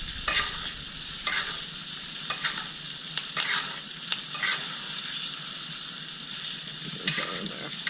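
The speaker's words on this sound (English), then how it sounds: "Base that butter and that oil and those herbs just all over the steak." Steady sizzling of fat in a hot pan, with soft periodic splashes and scrapes as hot butter, oil and herbs are spooned over a ribeye steak.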